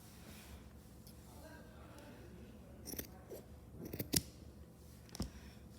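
Scissors snip crocheted yarn doll hair to even out a ponytail, a few soft close cuts scattered over a quiet background, with faint breathy sounds between them.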